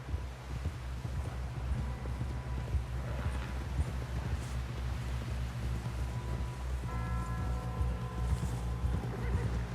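Horse hooves clip-clop in a steady rhythm, close and clear, with an occasional whinny over a low rumbling background, from the video game Red Dead Redemption 2.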